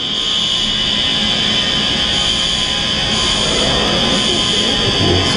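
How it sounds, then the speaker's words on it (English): An alarm buzzer drones loud and unbroken in a courtroom hearing, a steady tonal blare filling the whole stretch with no pauses. "It's an alarm."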